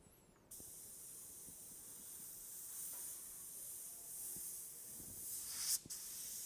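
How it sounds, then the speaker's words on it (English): An airbrush sprays water out through its tube as it is cleaned after use. A steady, faint hiss begins abruptly and holds for several seconds, then rises to a brief louder spurt near the end before settling, with small mechanical clicks underneath. "I still have water through the tube, so I'm just spraying the water out."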